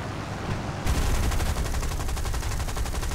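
Machine gun fire from an aircraft in the War Thunder combat game, a loud, continuous rapid rattle of shots that intensifies partway through and continues steadily to the end.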